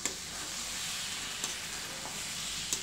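Semolina sheera, with sugar water just added, is stirred in a pan over a low flame: a continuous soft sizzle with a few faint scraping ticks of the spoon, and no voices.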